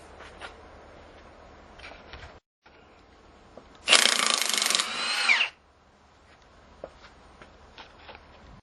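A Milwaukee brushless 1/2-inch impact wrench, back from repair service, runs in one loud burst of about a second and a half, with a brief dip partway through, standing out against faint room noise before and after.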